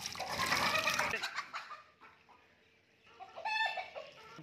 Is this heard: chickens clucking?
yes